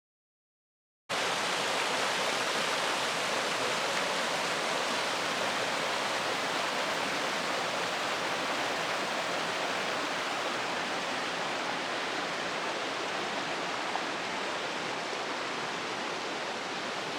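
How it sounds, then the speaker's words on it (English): The Little Pigeon River in the Great Smoky Mountains rushes past close by in a steady, full-bodied roar of water, unbroken and with no voices, after a second of silence at the start. "I think this is the Little Pigeon River."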